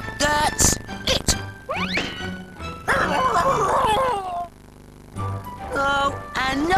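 A cartoon ship's dog barks and whimpers in short, close bursts of yaps and whines, with brief pauses between the outbursts.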